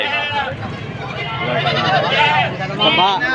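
A white goat bleats several times in wavering cries, close by at a goat market in Padre Garcia, Batangas, with people talking over and between the calls.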